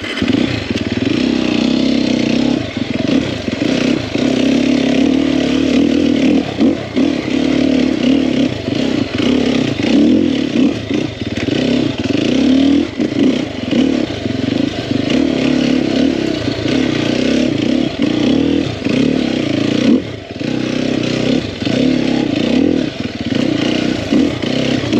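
A Sherco 300SEF four-stroke dirt bike engine runs loud and close throughout while being ridden, its steady drone rising and falling with continuous throttle changes.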